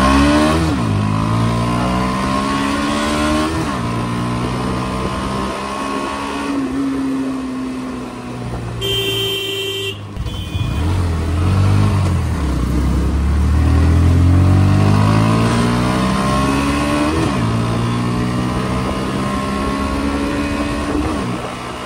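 An NS125 BS6 motorcycle engine revs up and down repeatedly, with rising and falling pitch sweeps, loud and close, in a bike that keeps stalling unless the throttle is held.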